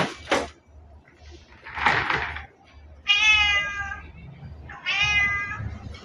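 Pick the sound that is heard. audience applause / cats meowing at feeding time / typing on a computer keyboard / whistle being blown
cats meowing at feeding time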